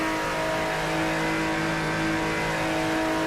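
A car races at high speed along the Shutoko expressway in the Shutoko Revival Project driving game, its engine holding a steady, loud, sustained drone with harmonic whine and no pauses.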